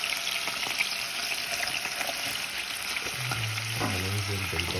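Chicken and onions fry in a pan for a Egyptian home-cooked dish, giving a dense, continuous sizzle with light stirring scrapes, close and steady throughout, with no talking.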